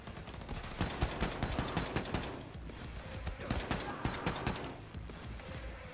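Rapid bursts of gunfire from a gun in Wolfenstein II: The New Colossus on PS4 run loud and nearly continuous, a dense rattle of overlapping shots throughout.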